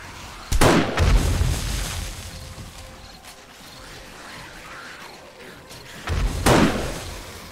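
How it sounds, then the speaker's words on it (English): Exploding crossbow bolts go off in the survival game 7 Days to Die: two loud, sharp blasts a few seconds apart, each with a booming low rumble, over a steady background wash and no talk. "Exploding bolts are amazing."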